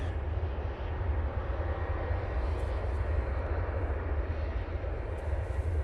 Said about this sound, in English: Dreamliner coming in from Delhi now